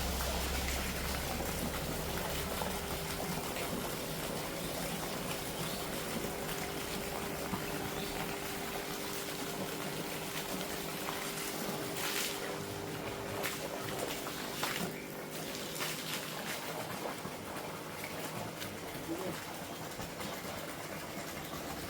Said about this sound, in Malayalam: ഈ ഒരിഞ്ച് ഓസിൽ വെള്ളം ചാടുന്നത് നിങ്ങൾക്ക് ഇപ്പോൾ കാണാം